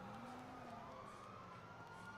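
A police siren wails in GTA 5, a faint, steady rising-and-falling tone that sounds a fair way off, with no talk over it.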